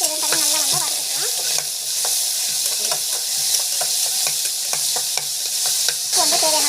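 Onions sauté in a pan with a loud, steady sizzle, while a spoon scrapes and taps repeatedly as they are stirred, close and continuous.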